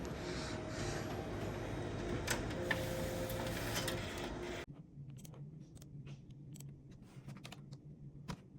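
An office printer runs with a steady mechanical whir and rhythmic clatter for several seconds, then stops abruptly, leaving quieter room noise with scattered faint ticks and clicks.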